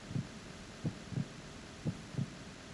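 A heartbeat picked up by the directional microphone in Metal Gear Solid 2, a low muffled lub-dub throb repeating steadily about three times over a constant hum, with no talking.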